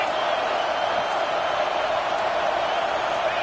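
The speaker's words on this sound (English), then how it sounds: "This crowd ready to make its presence known." Steady, dense roar of a football stadium crowd at a dynasty-mode game, continuous and loud throughout with no single voice standing out.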